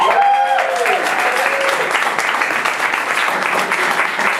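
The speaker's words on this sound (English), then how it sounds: "Please, a big round of applause." An audience at a Glasgow poetry reading gives a sustained round of applause for two poets. The dense clapping runs loud and steady throughout, with a few voices calling out over it at the start.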